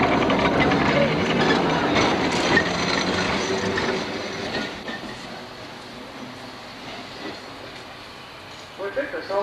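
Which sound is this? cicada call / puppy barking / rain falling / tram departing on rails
tram departing on rails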